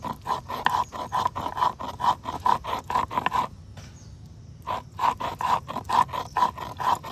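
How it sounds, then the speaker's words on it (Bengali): Spices being ground into a fine paste on a traditional shil-nora grinding stone, a steady run of rhythmic scraping strokes, close and clear, with a brief pause midway before the strokes resume. "শিলে বাটার টেস্ট সত্যিই অন্যরকম, একদম পুরো মিহি পেস্ট হয়ে গেছে।"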